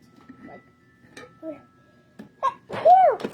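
After a few quiet vocal murmurs, one loud, abrupt sneeze bursts out near the end, close by.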